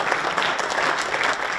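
An audience at a local sustainability debate in Epe claps for the candidates as they are introduced, a continuous, dense wash of many hands at fairly close, even loudness.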